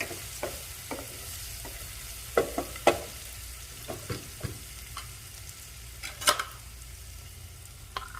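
Green chillies frying in hot oil for a Kerala-style beef curry masala, a low continuous sizzle broken by scattered sharp clicks and scrapes of a spoon against the pan.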